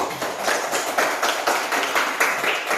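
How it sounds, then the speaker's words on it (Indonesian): Classroom students clap their hands together in a rhythmic, pulsing burst, near and fairly loud, with roughly two claps per second sustained for a few seconds. "Oke, kita beri tepuk tangan dulu."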